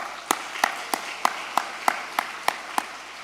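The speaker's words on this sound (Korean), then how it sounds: "사랑부를 위한 격려의 박수를 합시다" Church congregation gives a round of encouraging applause during a Thanksgiving Sunday service, heard as a slow, evenly spaced series of about nine sharp unison claps, fairly close and clear with no talk.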